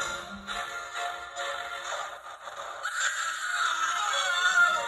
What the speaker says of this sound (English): Next, we got the Screaming Ghost.